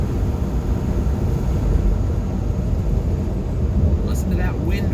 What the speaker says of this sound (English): Listen to that wind whip.